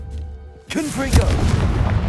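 The Confringo fire-blast spell in the video game Hogwarts Legacy goes off as a sudden deep boom that rumbles on for over a second, with a voice heard at the same moment.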